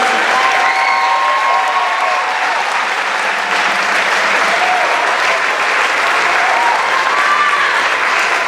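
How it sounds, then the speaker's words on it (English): Dense, steady applause from a large audience at a middle school winter band concert, honoring the wind ensemble and symphonic band; sustained clapping fills the whole stretch with a few faint whistles or tones. "One last round of applause for our wind ensemble symphonic band students."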